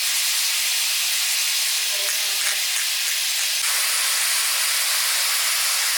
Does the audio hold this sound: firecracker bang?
no